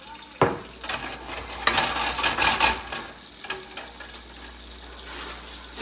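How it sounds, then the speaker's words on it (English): Baby spinach and spaghetti cook in a pan with soft sizzling, stirring scrapes and light clinks of utensils against the pan, moderately quiet and irregular. "Because we also want to cook the spinach a little bit"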